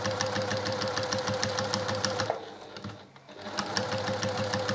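Sewing machine stitching along either side of a quilt seam, a steady close rapid mechanical chatter that briefly slows and drops away, then resumes at full pace.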